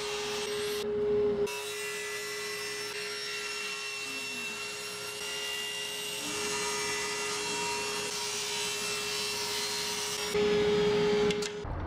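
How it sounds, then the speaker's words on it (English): Maple wood being cut by a steady power saw: a continuous loud whining drone with a constant pitch lasting most of the clip, the cut starting and ending abruptly, with no talk. "I will start by cutting this piece of maple"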